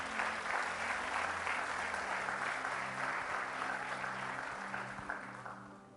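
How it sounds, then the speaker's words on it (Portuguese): A church congregation applauds during a sermon, a dense steady wash of clapping from many hands that carries on throughout and fades slightly toward the end, no voice over it. "Aplauda o Senhor Jesus."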